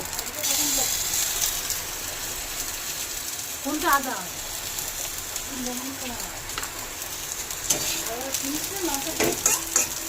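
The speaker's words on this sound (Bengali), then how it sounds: "এবার এর মধ্যে আমি দেবো আদা বাটা" Ginger paste frying and being stirred in a hot pan for a Bengali home-cooked dish, with a steady sizzle throughout and repeated scraping stirs, close and moderately loud.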